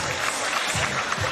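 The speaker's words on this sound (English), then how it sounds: "the crowd here in Newcastle are giving him a round of applause" Crowd applause at a Cage Warriors MMA event in Newcastle, a steady dense clapping from a large arena audience filling the whole moment without speech.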